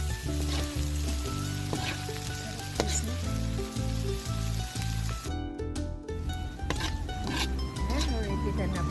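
Chili and red pepper being stirred into bopis, a Filipino dish of minced pork lung, sizzling steadily in a pan. The constant frying hiss runs under background music throughout.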